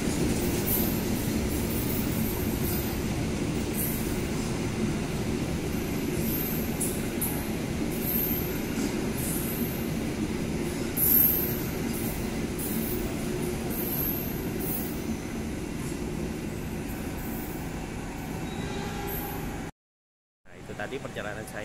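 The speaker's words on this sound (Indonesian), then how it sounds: "Tadi perjalanan saya menaiki kereta api Jakatingkir yang saya naiki dari stasiun Pasar Senen menuju ke stasiun Lempuyangan ya." Steady rumble inside a moving Jaka Tingkir passenger train travelling from Pasar Senen to Lempuyangan, with continuous wheel and carriage noise, faint squeals, and a brief cut near the end.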